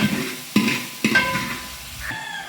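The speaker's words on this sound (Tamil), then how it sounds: "அப்படியே கிண்டி விட்டுக்கிறேன் இந்த மிருங்கக்காய் கொஞ்சம் ஆயில் சேர்த்து அப்படி நல்லா வதக்கி வரட்டு" Drumstick (moringa) pieces sauté in oil with small onions for a fish-head kuzhambu, a close sizzle punctuated by three distinct spatula knocks against the pan as it is stirred.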